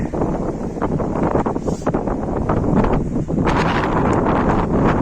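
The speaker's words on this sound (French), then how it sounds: "il y a du vent qui arrive" Strong wind at Lac de Chabarrou buffeting the microphone in loud, uneven gusts, with a rushing roar that rises and falls throughout.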